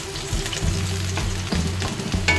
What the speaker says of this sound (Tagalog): Sugon ako og gisal.